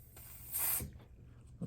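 A short hiss of cleaner sprayed from a can onto the power switch of a Gameboy Advance SP, close and moderately loud, lasting under a second with faint handling noise around it.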